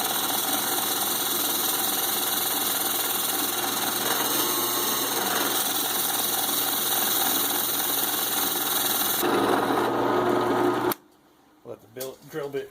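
A power drill grinds steadily and loudly into a wooden mortar-and-pestle handle for about eleven seconds, then cuts off, leaving a quiet gap and brief talking.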